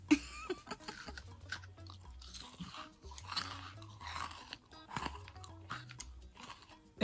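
A crunchy fried Ghanaian meat pie being bitten and chewed close to the mic, with repeated crisp crunches and rhythmic chewing throughout and no talking.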